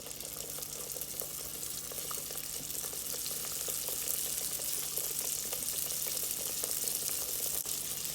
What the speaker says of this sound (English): Now we're just gonna fry them until they're nice and golden brown.